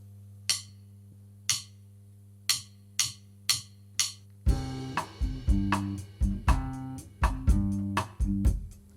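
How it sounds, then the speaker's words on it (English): Guitar bossa nova bass line plucked with the thumb in a Latin style, a steady pattern of soft low notes alone at first, then fuller plucked tones with chords joining halfway through. "Here is the bass line played with the thumb using a"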